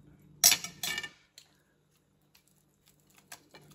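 A knife slices into a grilled ribeye steak with a couple of short scraping, squishy strokes and a clink of cutlery on a plate, followed by faint taps and near silence.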